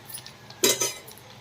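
A spoon stirs chana dal and urad dal in a pan for amla rice, giving a couple of quick, close metallic scrapes and clinks against the pan, with no voice.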